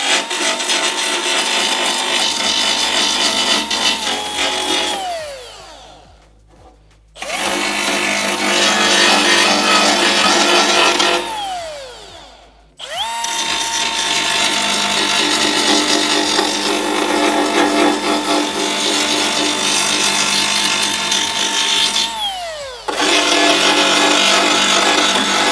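A dual action sander works over primer on a model car body, a loud steady whirring drone in long passes broken by short pauses where the motor spins down and restarts.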